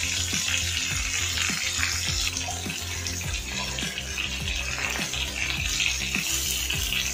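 Brinjals sauté in a pan with a steady, close sizzle and crackle, accompanied by repeated soft scraping or stirring strokes in an irregular rhythm.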